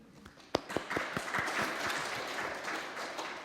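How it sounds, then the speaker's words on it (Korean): A church congregation breaks into applause during a Sunday sermon, starting with a few sharp claps and swelling into brief, moderate clapping that fades gently. "모르는 분이지만 박수 한번 주실까요?"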